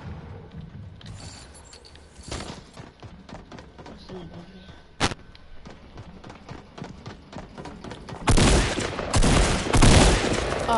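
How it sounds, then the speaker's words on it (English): Gunfire in a video game as the player is shot, with scattered shots and clicks early on, one sharp crack midway, then heavy loud bursts near the end, with speech in between. "Oh, of course he shot me"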